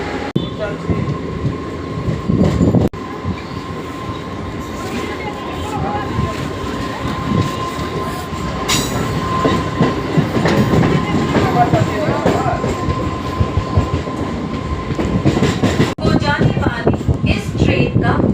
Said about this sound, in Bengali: হাওড়া থেকে ট্রেনটি আসছে